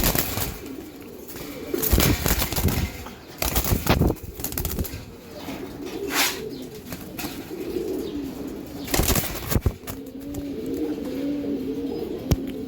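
Giribaz high-flyer pigeons at a farm give soft, repeated coos close by, broken by several sharp bursts of flapping wings.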